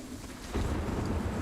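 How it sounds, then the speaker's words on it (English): Steady rain in the video game Sniper Ghost Warrior 3, a dense broadband hiss that thickens and grows louder partway through, with no voices. "We have a dynamic weather system, so now it's raining."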